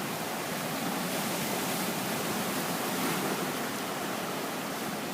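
Ocean surf breaks against rocks off the Kauai coast as a boat heads out, a continuous loud, dense wash of crashing water that holds steady throughout, with no voices.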